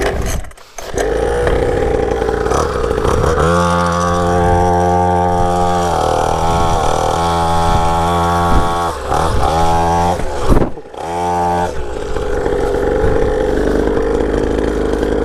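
A cheap Syx Moto mini dirt bike engine runs close by, a buzzing two-stroke drone that rises and falls with throttle blips and dips briefly near the end.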